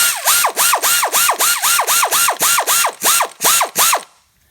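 A ratchet tightens the drive belt tensioner nut on a car's serpentine belt, giving about a dozen loud, evenly spaced clicking strokes close up before stopping abruptly, with no talking.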